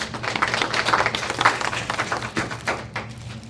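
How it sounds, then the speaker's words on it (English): A modest audience at a school district board meeting claps for a long-serving staff member, a light, uneven patter of applause with a faint hum underneath. "please let's give her a round of applause"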